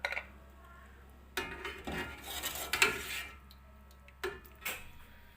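Cooked beef is lifted from a pot onto a plate during beef pulao preparation, giving scattered clinks and scrapes of utensils against metal and dish, a few wet knocks, close and fairly quiet, no talking.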